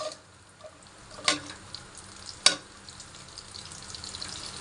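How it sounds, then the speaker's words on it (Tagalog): Onions fry in melted butter with a little oil: a faint, steady sizzle with two sharp clicks of a utensil striking the pan. "Natunaw na po, ilalagay na po ang sibuyas."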